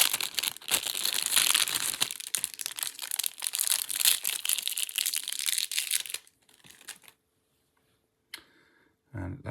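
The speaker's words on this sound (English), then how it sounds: "So let's unwrap this." Packaging around a stainless steel airsoft guide rod for a Tokyo Marui Sig Sauer P226 E2 pistol is unwrapped close by, with dense crinkling and crackling of plastic for several seconds, then quiet with a few last rustles.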